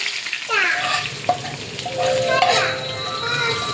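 Spice tempering for beef nihari hitting hot oil, a sudden close sizzle that keeps crackling steadily, with a voice and faint talk in the background.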